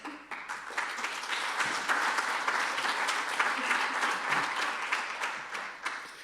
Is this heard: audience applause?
yes